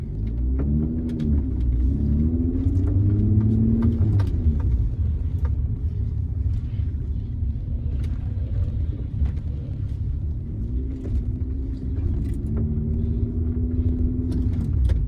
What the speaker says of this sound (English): Just driving the car.